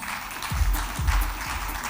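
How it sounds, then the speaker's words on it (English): Audience applause welcoming the chief guest onto the stage at a 16th Foundation Day ceremony, a steady crowd clapping with deep thumping beats, likely music, pulsing underneath at regular intervals. "Can I have you on stage with a big round of applause?"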